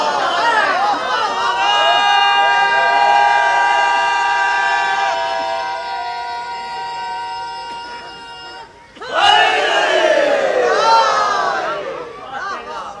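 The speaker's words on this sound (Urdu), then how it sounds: "آپ خوب جم کے نعرے لگائیے." A crowd at a religious gathering honoring a Maulana chants slogans, first as sustained, tonal massed voices, then after a brief dip as a loud, ragged surge of shouting.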